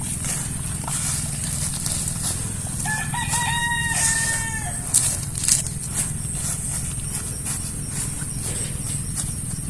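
A rooster crows once, a clear rising then held call, over a steady outdoor rumble with scattered clucks and rustling.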